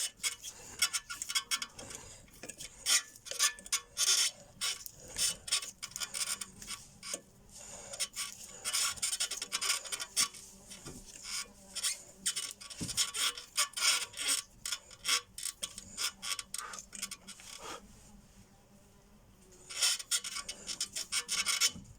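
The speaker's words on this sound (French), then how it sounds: "Et maintenant, on va visser comme ça. Et vous allez voir, le piston il va rentrer." A screw-type tool is wound by hand to push a brake caliper piston back on a BMW E60 during a brake disc and pad change, giving a long run of close, repetitive scraping and rasping strokes with a brief pause near the end.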